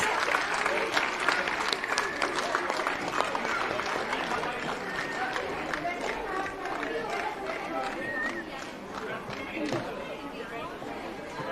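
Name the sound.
audience applause at school annual day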